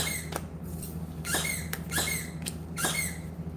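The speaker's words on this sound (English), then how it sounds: "now he's going to start the squeaky thing" A squeaky toy squeaks repeatedly in short bursts at an uneven pace, fairly close, over a steady low hum with no talking.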